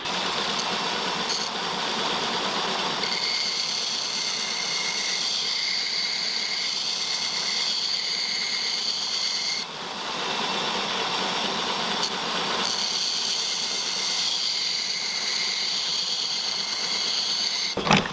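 A drill-powered sharpening station hums continuously at close range, a steady motor whine with a high grinding tone that shifts slightly, briefly dips near the middle and runs on with no voices.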